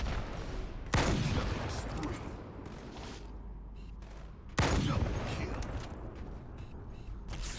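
Gunfire in the Halo 2 Anniversary video game, two sharp loud shots or bursts a few seconds apart, each trailing off into echoing rumble, with mechanical clanks and game noise between.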